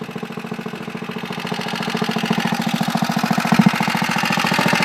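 A Harbor Freight 1-inch water pump engine, set up for softwashing, runs steadily at close range with a fast, even chugging rhythm that stays loud and constant throughout.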